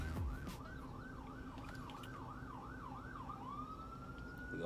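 Emergency vehicle sirens wail outside in a repeating up-and-down yelp, then shift to a steady rising tone, faint and distant over low traffic rumble.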